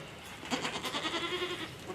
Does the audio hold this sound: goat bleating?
yes